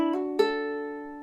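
A short ukulele riff of plucked notes ends on the open 4th string, the last note ringing out clean and sustained, close by with no voice.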